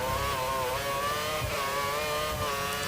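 A Formula 1 car in the F1 2014 video game races downhill toward Eau Rouge at Spa, its high-pitched engine screaming steadily with slight pitch rises and dips as it holds speed.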